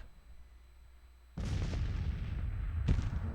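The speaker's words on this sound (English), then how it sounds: "So we got our cannon pounding this infantry in the field." Cannon artillery from a batch of guns pounding infantry in an 1861 Union campaign of a Civil War video game: a quiet lull, then a heavy boom that rolls into sustained rumble, and a second sharp blast about a second and a half later.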